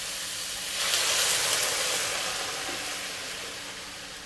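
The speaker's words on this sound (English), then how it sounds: "Now we add in our stock. Strain your stock in." Stock strained into a hot wok of fried prawns gives a loud, steady sizzling hiss that swells briefly, then slowly dies down over several seconds, with no talking.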